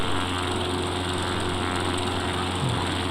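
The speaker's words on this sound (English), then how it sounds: "we'll come up to full power. And we'll take off." An X Cub light aircraft engine at full power on the takeoff roll from runway 28 at Monterey, a loud, steady buzzing drone that holds constant throughout.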